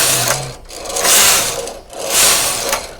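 A knitting machine carriage knitting rows of yarn with the stitch dial set to 7, giving two broad swelling mechanical whirring passes with a ratcheting texture, close and fairly loud, no speech.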